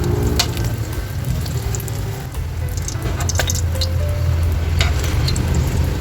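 Tawilis fish fry in hot oil with a loud, continuous close-up sizzle, crackling and spitting throughout, with occasional pops and a few light clinks.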